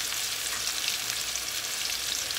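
A pork chop coated in cassava flour fries over low heat, producing a steady, even, close hiss of bubbling oil with no breaks or voices.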